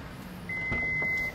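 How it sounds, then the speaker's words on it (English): A single steady electronic warning beep sounds from a Toyota Highlander when the back hatch will not open, a clear tone lasting under a second over quiet background. "It just beeps at you."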